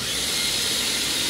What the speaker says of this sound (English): Recording me what, drill holes?